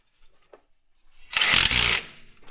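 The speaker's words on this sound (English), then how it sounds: "all what we need to do is just tighten up the bolts" Bolts being tightened on the front brake caliper of a 1995-2000 Subaru Impreza: a few faint clicks, then a loud, dense burst of an impact or power tool spinning for about half a second before stopping.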